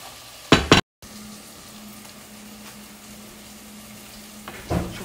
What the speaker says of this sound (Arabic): الحين تحمر عندي البصل، هنزل الطماط منه.